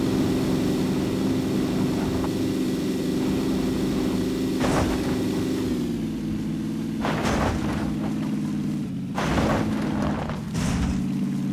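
In the battle royale game PUBG, a propeller aircraft drones on with a loud, steady engine hum throughout, broken by several short bursts of other game noise.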